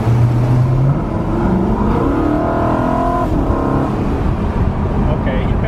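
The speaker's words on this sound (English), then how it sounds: "It's got like a nice V8 sound." A BMW E93 M3 convertible's V8 engine hums while driving, rising steadily in pitch as it revs out and then settling, heard from inside the car. People talk over the engine.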